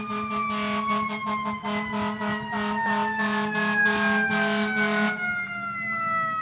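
A fire truck siren wails continuously with a pulsing, rapid yelp pattern over engine rumble, loud and close, then the pulsing stops and a steady tone fades.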